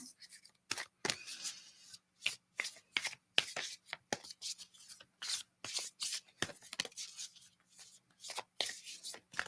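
Tarot cards shuffled by hand ahead of a reading, a quiet, close run of quick irregular riffles, flicks and taps with brief pauses between bursts.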